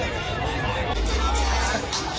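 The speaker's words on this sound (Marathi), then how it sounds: "गर्दी बा गर्दी" Festive Christmas crowd on Bandra's Carter Road, a continuous wash of chatter and murmuring voices with steady background rumble, dense and close around.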